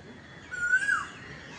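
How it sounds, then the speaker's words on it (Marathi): An Asian koel calls once from a tree on a hillside, a single rising whistled note standing out clearly over quiet outdoor background. "तो कोकिळेचा आवाज येतोय, वाटतं कोकिळे इथेच आहे कुठेतरी."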